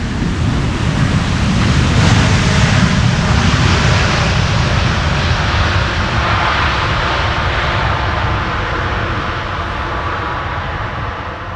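An airliner lands at Amsterdam Schiphol in a crosswind, with a loud, broad engine roar swelling early and then slowly easing off as the jet rolls out, heard from nearby without talk.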